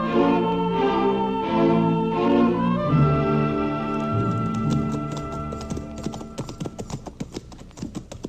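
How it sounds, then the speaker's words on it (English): Horses' hooves clip-clop in an old Western radio drama, a steady rhythmic plodding at first, then giving way to sharper, irregular hoof clatter that grows more distinct and separated toward the end. "Let's leave the horses here, Chester, and walk into camp."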